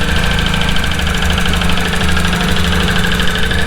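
Suzuki Burgman 650 Executive scooter engine idling steadily with a loud, continuous mechanical ticking, heard close up with no talking over it.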